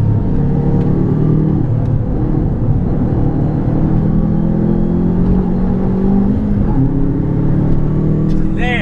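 A four-wheel-drive Subaru Impreza WRX drives around the Mondello Park race track, its engine droning steadily and loudly from inside the car, with pitch rising and falling through gear changes and a brief squeal near the end.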